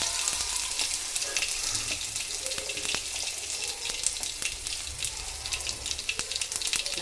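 Curry leaves crackle and sizzle in hot oil with a steady, dense frying hiss and scattered pops, close and loud throughout, with no talking.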